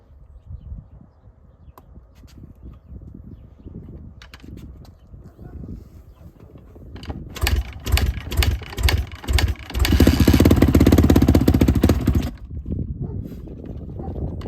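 A cold Honda CRF450 dirt bike with a new valve cover gasket sputters and catches after some rumbling, then barks through a series of sharp revs and a loud sustained burst before dropping back to a rough idle.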